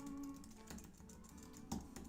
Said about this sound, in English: Let me type it in here, one sec.